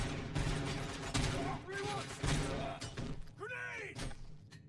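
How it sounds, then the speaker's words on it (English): Explosive booms and cracking blasts from grenades and gunfire in the shooter game RoboCop: Rogue City, loud and dense, mixed with harmonic game sounds and overlapping voices. "Stop throwing grenades down here"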